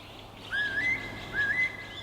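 Small birds in an urban forest on a city mountain give two clear, thin rising whistled calls about a second apart, close and alone over faint background hum.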